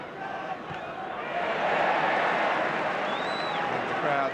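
Stadium crowd at a Liverpool v Stoke City football match rises into applause and cheers after a tackle, a broad wash of noise that swells midway and holds, with a commentator speaking over it.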